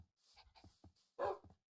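Minecraft dogs yip and bark in short, soft bursts with one louder bark near the end, brief gaps of silence between calls.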